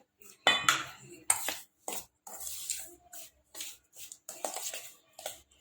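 A spoon stirs semolina and sour buttermilk in a bowl, making close, intermittent metallic scraping and clinking strokes in short bursts with quiet gaps between them.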